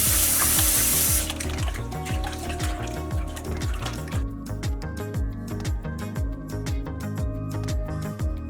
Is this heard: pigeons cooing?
no